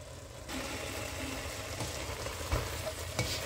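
Matembele leaves cooking in their own juice with no water added, with smoked fish, giving a steady close sizzle and fry with a few brief stirring clatters and no voices.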